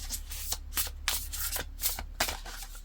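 Tarot cards are shuffled and riffled by hand, with a series of short, brisk rustling bursts at a quick, uneven rhythm, close and fairly quiet, with no talking.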